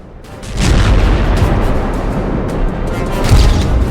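Aerial bombs and artillery fire boom in a war, a continuous rumbling barrage of deep, loud blasts that swells up quickly and stays heavy throughout.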